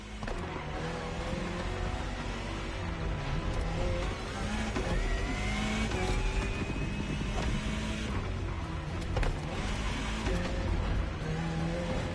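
Jaguar CX-75 concept car driven in the racing game The Crew Motorfest, a steady engine roar with rising gear-shift pitch sweeps over constant wind and road rumble, loud and continuous with no talking.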